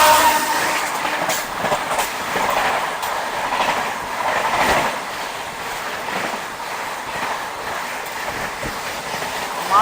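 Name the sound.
Kolkata–Yog Nagar Rishikesh train leaving Mankar station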